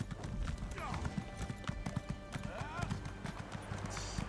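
In the Elder Scrolls Online video game, a horse clip-clops with quick, steady hoofbeats and gives a couple of brief whinnies, all under faint background sound.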